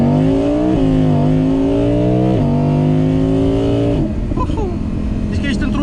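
An Audi R8 V10 Performance quattro Spyder revs hard and accelerates through rising gear pulls, its loud, close engine note climbing and then dropping off at each shift.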